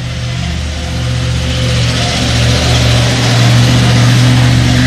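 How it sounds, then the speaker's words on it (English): A septic truck's heavy engine rumbles steadily and grows gradually louder as it approaches, a low droning hum with no voices. "Just in time for the shit truck to go by."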